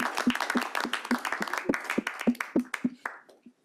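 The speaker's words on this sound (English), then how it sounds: "I think we should give ourselves a round of applause for the first recommendation on the board." A small group at a committee meeting claps, about a dozen distinct, fairly close hand claps in an uneven rhythm that thins out and stops after a few seconds.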